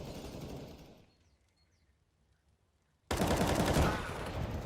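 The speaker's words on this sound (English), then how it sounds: "That is a ridiculous shot onto Norbert." Gunfire in a competitive CS:GO match between FURIA and Outsiders: fading noise gives way to a near-silent pause, then a sudden loud burst of rapid automatic shots that carries to the end.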